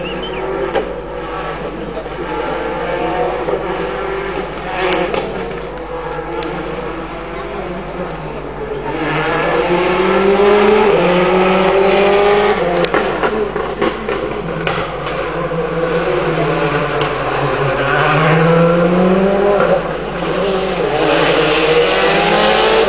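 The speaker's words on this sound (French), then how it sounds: "La Ford quand même qui fait très peu de bruit, on entend beaucoup le turbo." A Ford rally car engine on the 2007 Tour de Corse revs and accelerates with a prominent turbo whine and whoosh over little engine noise, rising and falling in pitch, with a voice talking over it.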